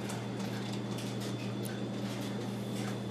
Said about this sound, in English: I got the heat on and the clothes dryer running.